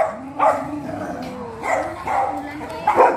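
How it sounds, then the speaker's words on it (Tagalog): A dog barks and yips in short bursts, several times over a few seconds, close by, with whiny vocal tones between the barks. "Tahol."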